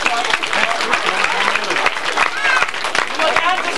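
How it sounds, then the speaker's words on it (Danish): Clapping from children and adults at a kindergarten after a child's magic trick, dense and steady throughout, with voices talking over it. "skal vi ikke klappe, Anders."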